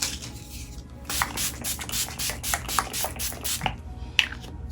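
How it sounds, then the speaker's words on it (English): Rapid series of short, hissing bursts of Urban Decay All Nighter makeup setting spray close by, about a dozen pumps in quick succession, then a final spritz after a pause. "I have this set with my All Nighter Setting Spray by Urban Decay"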